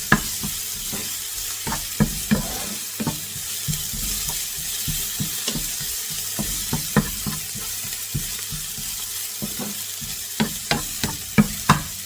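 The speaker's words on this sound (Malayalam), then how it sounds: "ഈ വെജിറ്റബിൾസ് ഒരുപാട് അങ്ങോട്ട് നമ്മൾ കുക്ക് ചെയ്തെടുക്കരുത്" Vegetables sautéing for fried rice, with repeated sharp stirring and scraping knocks over a steady hiss of frying, close and fairly loud throughout.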